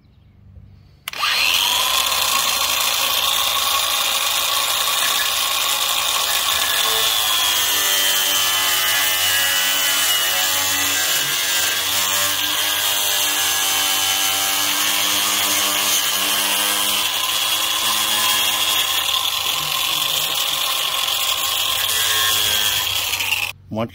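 A PVC pipe fitting end being cut off for pool filter plumbing, a loud continuous close-up sawing or cutting drone held steadily for about twenty seconds after a quiet start.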